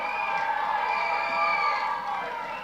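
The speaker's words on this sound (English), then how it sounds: "The crowd is going wild." A backyard wrestling crowd roars and cheers wildly in a dense, sustained wall of shouting voices that swells slightly midway and then eases off.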